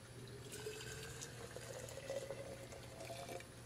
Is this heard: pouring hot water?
yes